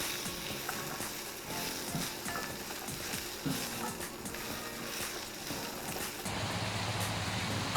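Green beans with ginger and garlic fry in oil in a pan, giving a faint, continuous sizzle broken by soft stirring clatters and a brief louder hiss near the end.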